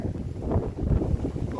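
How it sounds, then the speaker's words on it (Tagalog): Strong wind blows across an exposed hilltop trail, a loud rumbling gust buffeting the microphone in low, uneven surges with no clear talking. "Lakas ng hangin."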